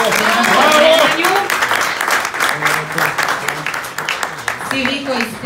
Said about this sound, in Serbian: Jedan aplauz za Nemanju